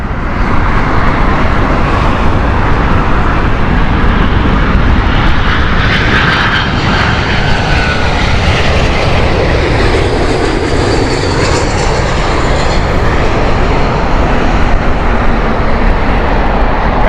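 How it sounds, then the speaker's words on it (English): A British Airways Airbus A321 arriving from Paris at Heathrow roars loudly and steadily as it passes near, the engine tone shifting in a slow sweep over the long pass. "Coming in right now is the Paris flight, Airbus A321."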